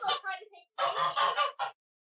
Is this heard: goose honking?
yes